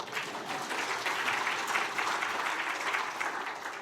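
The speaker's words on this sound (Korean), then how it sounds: "박수 한번 쳐주세요" Moderately faint applause from a congregation at a Korean church gospel meeting as the emcee is introduced, an even wash of clapping that stays steady from start to finish.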